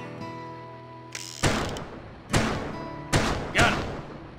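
Western-style revolver shots from the video game Gun ring out close and sharp, with four blasts spaced roughly a second apart, each a sudden crack followed by a short fading tail, with no voices.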